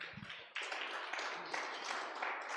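A church congregation breaks into loud, sustained applause after a brief low thump, with many hands clapping in a dense, even wash that continues without talk.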